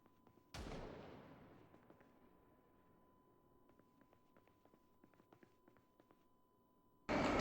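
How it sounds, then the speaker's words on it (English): A single sharp, loud bang from somewhere outside, with a long decaying tail, followed by quiet with a steady hum and scattered small ticks, then a burst of noise at the very end. "Someone's shooting?"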